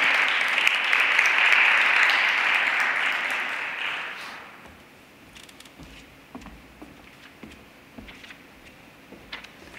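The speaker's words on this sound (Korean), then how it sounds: "큰 박수 부탁드리겠습니다" A church youth worship audience applauds a newly appointed leader, a steady wash of clapping that lasts about four seconds, then fades to scattered claps and quiet room noise.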